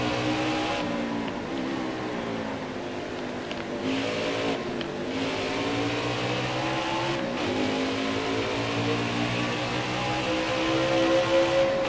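A NASCAR stock car engine roars at full throttle in NASCAR Heat 4, sustained loud revving with rising and falling pitch through gear changes and brief lifts, no speech.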